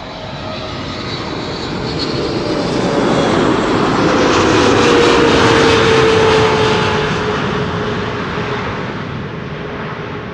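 An Airbus A321neo in new livery arrives at Amsterdam Schiphol, its jet engine roar swelling loud and close as it passes, then easing off, with a descending whine running through it and no voices present.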